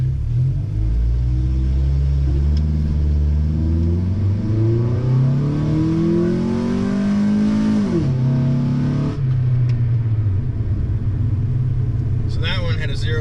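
A Honda Integra engine revs hard through a 0-30 launch, a loud rising roar that climbs steadily, dips at a shift and pulls on again before backing off near the end.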